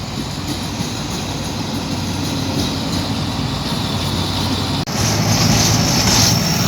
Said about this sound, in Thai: โอ้โห มีหัวจักรมาแกมด้วยนะครับ